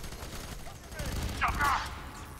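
Gunfire in the Fear 3 co-op video game comes as a busy, muffled clatter of shots in a chaotic firefight, mixed with game effects and overlapping voices.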